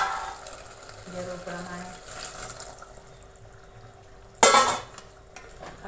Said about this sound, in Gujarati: એમાં જરૂર પ્રમાણે આપણે ગરમ પાણી નાખીશું